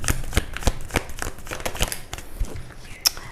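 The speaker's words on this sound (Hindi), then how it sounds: "मैं सब कार्ड्स लगा लेती हूँ पहले और फिर हम बात करेंगे।" Tarot cards are handled and set down one after another during a reading, giving a run of close, soft papery slaps and shuffles at an irregular rhythm, with no talking over them.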